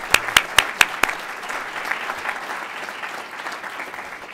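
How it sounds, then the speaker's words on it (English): An audience applauds for a guest at a Dartmouth talk, with a few sharp, close hand claps at the start that blend into steady, sustained crowd clapping. "please give Bill a warm round of applause"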